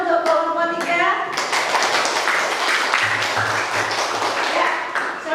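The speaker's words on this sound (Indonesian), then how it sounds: "Kita kasih tepuk tangan untuk kelompok 3." Students clap for a presenting group in a school classroom, a brief spoken line first, then a loud burst of scattered hand clapping lasting several seconds with a few desk thumps.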